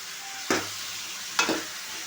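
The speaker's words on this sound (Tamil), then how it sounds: "நல்லா கிண்டி விட்டுறோம்" Salted vegetables for a dried fish curry are stirred in a hot pan, with two distinct scraping sweeps of a spoon about a second apart over a faint, steady sizzle, close and moderately loud.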